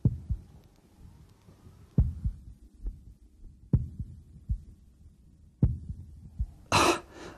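A slow heartbeat thuds at close range, low dull beats spaced about two seconds apart with a faint hum between them, ending in a short burst of breathy noise.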